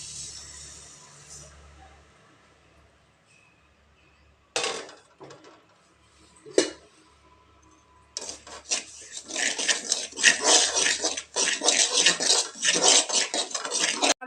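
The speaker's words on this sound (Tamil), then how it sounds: "இதில் எண்ணெய் விடாமல் ரவையை போட்டு வறுத்து எடுத்துக்கலாங்க." Dry semolina (rava) being roasted in a pan without oil, stirred with a utensil: soft scraping and gritty rubbing strokes, a couple of sharp clanks against the pan, then busier, louder rhythmic scraping toward the end.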